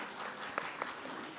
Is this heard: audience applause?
yes